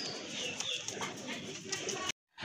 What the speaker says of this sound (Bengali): খুবই চমৎকার এক জোড়া কবুতর, ভালো মানের কবুতর